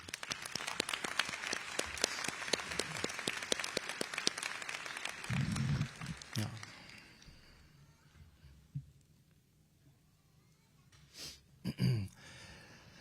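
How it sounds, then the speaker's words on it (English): Crowd at a high school commencement giving a round of applause, scattered but steady clapping that dies away after about six seconds, followed by quiet room noise and a few coughs or murmurs. "Please give yourselves a round of applause."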